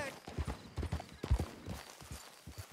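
Horse hooves clip-clopping at a walk in Red Dead Redemption 2, an uneven rhythm of close hoof strikes with a voice talking over them.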